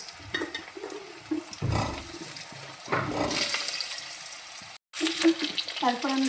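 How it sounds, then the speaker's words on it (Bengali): Cut potatoes drop into hot oil already spiced with dried chili, bay leaf and cumin, bursting into loud, close sizzling bursts with a brief silent gap and a voice faintly in the background. "ওর মধ্যে আমি কেটে রাখা আলুগুলো দিয়ে দিলাম।"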